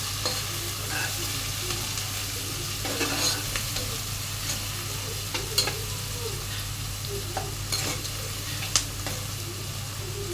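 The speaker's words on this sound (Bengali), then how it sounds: "এখন পেঁয়াজটাকে ভালো করে ভেজে নিব।" Sliced onions frying in a pan of oil for a beef and potato curry, a steady close sizzle with scattered crackles and occasional stirring scrapes over a low hum, no talking.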